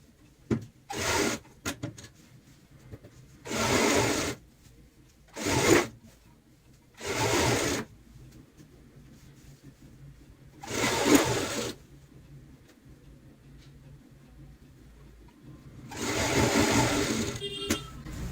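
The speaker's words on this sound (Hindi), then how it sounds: "अब हम चारों साइड इसी तरीके से सिलाई अपनी कंप्लीट कर लेते हैं।" A sewing machine stitches the border of a pillow cover in several short bursts of rapid whirring, each a second or two long, with quiet gaps between them.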